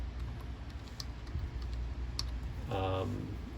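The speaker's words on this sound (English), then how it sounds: "You can type a description." Quiet typing on a computer keyboard to enter a description, soft scattered key clicks over a low background hum, with a brief voice near the end.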